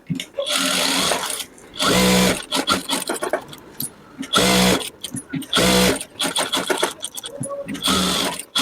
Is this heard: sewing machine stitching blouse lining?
yes